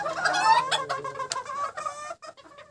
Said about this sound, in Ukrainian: курочки хочуть на вигул. Чуєте, як вони?